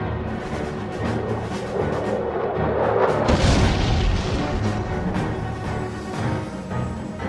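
Bombs and rockets dropped by jet aircraft over Khe Sanh in the Vietnam War explode in a continuous, heavy rumbling roar that swells in the middle and then eases, with scattered sharper bursts.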